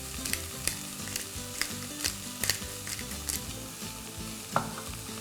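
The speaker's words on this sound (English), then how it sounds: "3-4 minutes sauteing the peppers with the onions" Peppers and onions sauté in a hot pan with a steady close sizzle, punctuated by light clinks and stirring scrapes, no voices over it.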